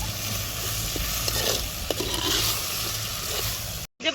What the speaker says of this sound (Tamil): நறுக்கி வைத்த காய்கறிகளை எல்லாம் சேர்த்துக்கலாம்.